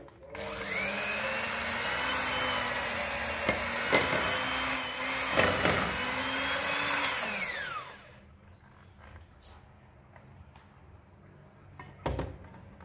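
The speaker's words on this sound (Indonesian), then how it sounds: "kemudian ini gula halusnya 30 gram ya kemudian ini mau langsung saya mixer" An electric hand mixer whirs loudly and steadily for about eight seconds, beating powdered sugar into nastar cookie dough, then switches off, leaving quiet bowl knocks and a clatter near the end.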